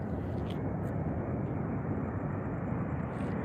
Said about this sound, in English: Another JetBlue. Nice touchdown.